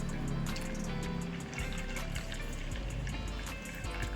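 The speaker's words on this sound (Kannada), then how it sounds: "ನಿಮಗೆ ಎಷ್ಟು ಪಾನಿ ಬೇಕಷ್ಟು ನೀರು ಹಾಕೊಳ್ಳಿ" Water pours into a pot of ground spice paste and tamarind juice for homemade pani puri, a continuous close trickling and splashing stream that holds steady throughout with no talking.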